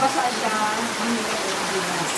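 Steady broadband rain falling during a stormy day on a trip to Subic, a continuous hiss with no distinct drops, and voices murmur faintly in the background.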